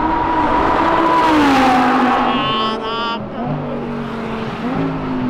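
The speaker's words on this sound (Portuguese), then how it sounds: "Ó o R8, ó o barulho do R8." An Audi R8 race car's engine drones loud and steady on the Interlagos track at night, its pitch sliding down and then climbing again as it passes. A man briefly exclaims over the sound.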